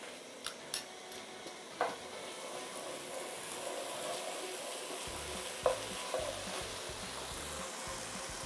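Rice fries and sizzles steadily in a pan as ketchup is stirred in, with a few sharp utensil clinks and scrapes over the constant hiss.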